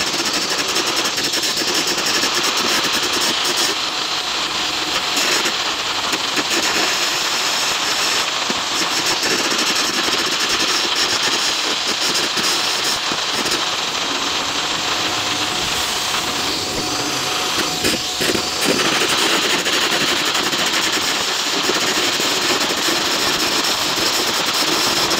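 Air carbon arc gouging on steel plate produces a loud, continuous, harsh roaring hiss that stays dense and steady throughout with slight crackling fluctuations.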